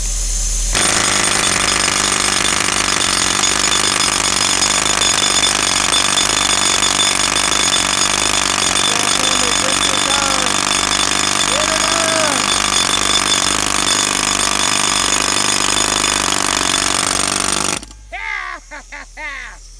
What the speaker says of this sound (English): This is a 60 pound jackhammer.